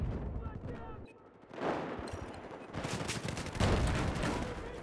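Mortar fire during a video game firefight, heavy thuds and bursts among continuous distant gunfire, loud in stretches and quieter between, with some speech over it.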